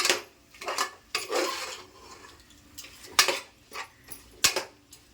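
Mutton biryani masala stirred in a pot over low flame, with scraping and clinking strokes in irregular bursts, close and fairly sharp, with quieter gaps between.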